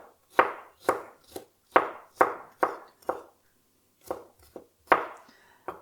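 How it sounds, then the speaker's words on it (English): A knife thinly slices garlic on a chopping board, about a dozen crisp distinct taps in an uneven rhythm, close and clear with no talk. "Now you can cut garlic several ways. Either cut it very thinly like this"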